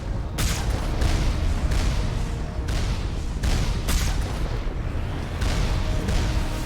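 Rapid turret fire in the Mass Effect video game, a dense run of booming shots and bursts at close range, loud and continuous with short gaps.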